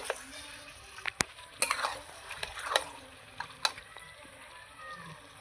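Meat frying with spices in a pan under a lid, a low sizzling hiss punctuated by sharp metallic clinks and knocks from the lid and spatula, close and moderately quiet.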